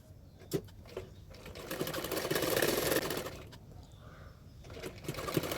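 A domestic sewing machine runs in short bursts while stitching an extra belt along the edges of a double katori blouse, the motor whirring steadily, pausing, then starting again, fairly close.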